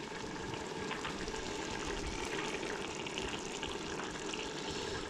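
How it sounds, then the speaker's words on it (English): Pasta water is ladled into a pan of pasta sauce, a continuous close rush of pouring, splashing liquid, steady and fairly loud with no voices. "just get some of this pasta water and put it into the sauce."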